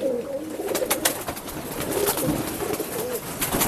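Pigeons coo repeatedly in a steady, fairly loud stream of low throaty calls, with no talk over them.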